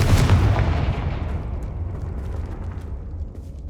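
A Confringo fire spell blasts in the Hogwarts Legacy video game, a loud booming burst at the start that rumbles and decays steadily over a few seconds, with no talking.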